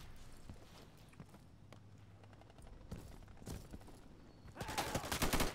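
Bursts of gunfire in the video game Insurgency, shots fired down from above, scattered cracks and rattling volleys at moderate distance that build louder toward the end, with footstep-like shuffling in between.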